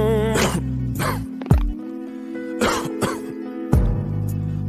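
Several harsh coughs in quick bursts, loud and close, over a steady droning tone that cuts in and out.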